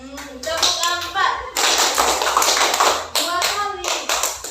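Children clap their hands in unison in a classroom, a short burst followed by a longer dense stretch of claps, with a voice and an adult chanting over the clapping.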